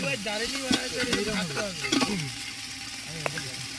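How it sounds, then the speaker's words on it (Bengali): Ginger-garlic masala frying in oil for handi chicken, a continuous close sizzle with repeated spoon scrapes as it is stirred. "এটা কিছুক্ষণ মশলাটা হচ্ছে কিছুক্ষণ ভাজতে হবে, নাহলে গন্ধটা রয়ে যাবে, ওই জন্য ভাজতে হবে মশলাটা।"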